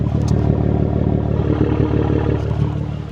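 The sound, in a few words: BMW M3 engine and exhaust revving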